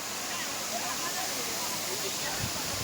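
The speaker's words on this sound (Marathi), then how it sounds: "बेकरे वॉटरफॉल" The Bekare waterfall gives a steady, dense roar of falling water, close and continuous, with no breaks over a few seconds.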